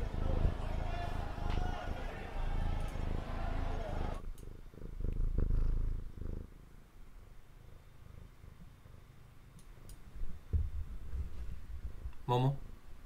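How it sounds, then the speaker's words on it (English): Soft, steady purring of a cat close by, a low continuous rumble with faint background noise, ending with a brief higher sound. "Yeah, she's purring"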